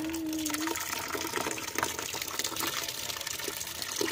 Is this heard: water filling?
yes